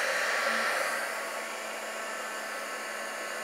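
A heat tool blows steadily over embossing powder on a beaded snowflake card, a constant whooshing whir of hot air heard close and alone, easing slightly after the first second.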